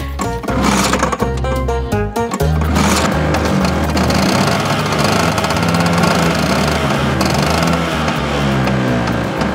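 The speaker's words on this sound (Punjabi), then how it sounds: "ਅੱਜ ਤਾਂ ਸਕੂਟਰ ਵੀ ਨਾ ਅੰਗਰੇਜ਼ੀ ਬੋਲਦਾ ਬ੍ਰਮ ਬ੍ਰਮ ਕਰਦਾ ਬ੍ਰਮ ਬ੍ਰਮ" A scooter engine runs loudly and steadily throughout, a constant rattling drone with a busy mechanical rhythm, mixed with music in a film scene.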